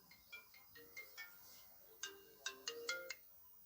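A mobile phone ringtone chimes during a biology lecture, playing a quiet, repeating melodic pattern of plucked tones that grows brighter and denser toward the end, with no talk over it.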